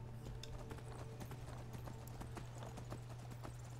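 Horse hooves clip-clop in a steady rhythm while riding in the video game Skyrim, close and continuous over a low droning game soundtrack.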